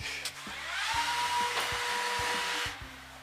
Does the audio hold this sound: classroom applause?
no